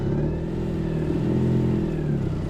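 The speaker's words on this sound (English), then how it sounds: "That's just grinding the clutch." A Citroen 2CV clutch grinds as the small car struggles to pull away in snow, a loud, steady, rough engine drone straining close by for a couple of seconds.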